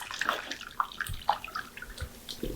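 Marinade poured into a pan of brisket and sausage, a wet splashing, trickling stream with scattered drips, close and fairly quiet, with no voices.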